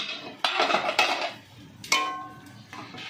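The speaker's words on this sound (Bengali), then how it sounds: "এবারে ঢাকনাটা কিন্তু খুলে নিচ্ছি।" A metal lid comes off a cooking pot of simmering greens, making a few short clanks and scrapes followed by a brief ringing tone, close and alone with no talk.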